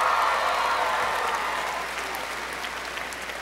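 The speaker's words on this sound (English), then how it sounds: "Can I hear some applause?" A crowd at a 2011 Marcus High School graduation ceremony claps in dense, sustained applause, loud at first and slowly tapering off but still going at the end.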